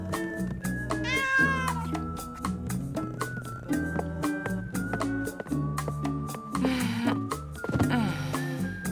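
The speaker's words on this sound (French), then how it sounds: "c'est un bon chat, ça" A cat meows repeatedly in drawn-out, wavering cries over a steady musical background, loud and close throughout.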